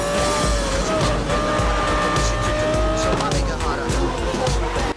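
Audi R8 GT Spider in Need for Speed Most Wanted roars loudly and steadily, its engine note shifting pitch as it accelerates, with tire squeal and skidding mixed in over the continuous racing drone.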